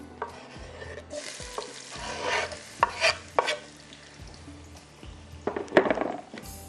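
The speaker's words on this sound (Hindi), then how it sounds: "चलिए, इसको भी करते हैं हम प्याज को ब्राउन" Onions frying in oil in a home kitchen pan for a yogurt masala, a steady soft sizzle broken by several louder stirring scrapes and clanks of a spoon against the pan, close by with no talking.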